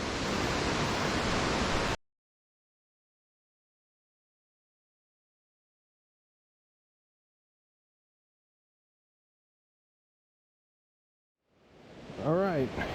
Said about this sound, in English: This is Hurricane Falls.